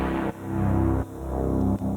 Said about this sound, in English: so I added an extra string layer underneath it,